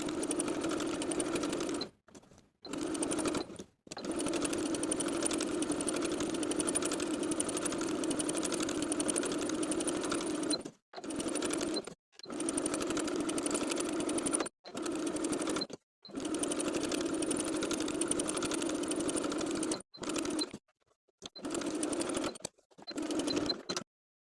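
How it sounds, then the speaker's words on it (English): A sewing machine top stitches a knit T-shirt with a 3mm straight stitch, running in long steady whirring stretches broken by brief pauses, close and loud with no talk. "Now we're going to top stitch along the lines that we've transferred with a 3mm straight stitch."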